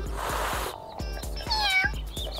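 A cat meows a couple of times, close and clear, over a steady thumping beat in the background.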